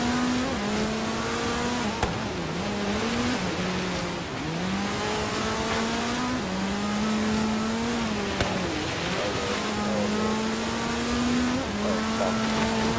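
A racing car in Forza Horizon 3 drives on ice in a blizzard-covered mountain area, its engine droning loud and steady as revs rise and fall with repeated gear shifts, alone and with no talking.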